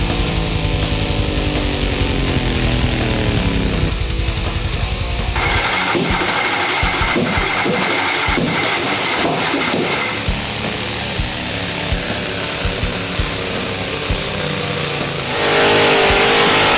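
The engine of a Cub Cadet 582 pulling tractor being built runs loud and close. The roar shifts in pitch and texture over time, with no talk.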